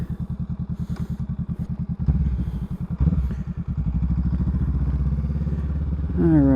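A Honda Rebel motorcycle fitted with a Mustang Tripper solo seat thumps along at a steady pulsing idle-to-cruise rhythm, loud and close, its engine note shifting as it pulls away and rises near the end.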